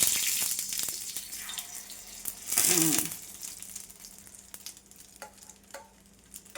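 Omelette batter made with egg and onions sizzles faintly in a pan, a soft crackling hiss with a brief louder burst as more batter is poured in.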